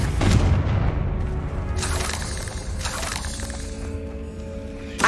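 Confringo blasting spell from Hogwarts Legacy gameplay, heavy booming explosions with shattering crackles, several blasts in quick succession over a rumbling game soundscape.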